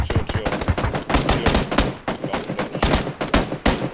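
Dense, rapid bursts of automatic gunfire from a duo battle royale shooter match, loud, near and continuous, with overlapping shots crackling in quick succession and no talk.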